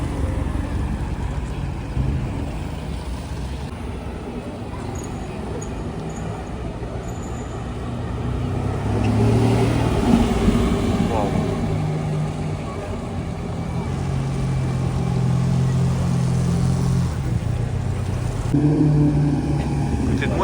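Mercedes engine rumbling in the streets of Monaco, a low steady drone that swells louder in the middle and toward the end, with busy street noise around it and people talking.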